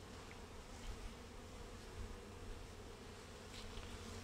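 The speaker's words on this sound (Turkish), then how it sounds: "Bu arı Kafkas ırkı arımız." Steady buzzing of many Caucasian honey bees close by, a continuous dense hum with no talking.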